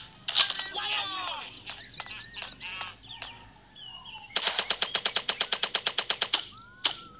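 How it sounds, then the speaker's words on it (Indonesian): Suppressed gunfire in a first-person shooter, with a rapid burst of about twenty muffled clicking shots in steady rhythm, scattered single shots before and after, and chatter mixed in earlier. "Senjata peredam ini, guys. Pakai peredam."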